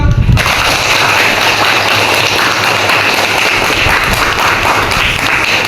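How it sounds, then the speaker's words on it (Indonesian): A group at an elementary school, SDN 25 Talang Kelapa, bursts into dense, loud applause that holds steady and continuous throughout, with many hands blending into one roar. "Terima kasih untuk kita semua, tepuk tangan."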